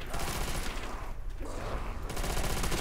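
Rapid gunfire in Call of Duty: World at War custom zombies on the Undead Park map, dense automatic bursts that pause briefly midway and then resume, loud and close.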